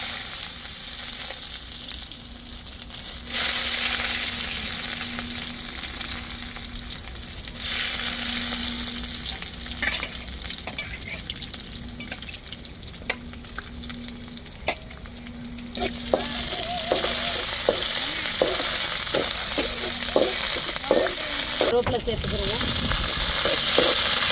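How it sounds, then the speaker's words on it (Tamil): Onions fry for tempering in a pan with a loud, continuous sizzle, broken by sharp stirring clicks that grow busier and louder toward the end. "தாளிப்புக்கு வெங்காயம் சேர்த்துக்கிறேன்"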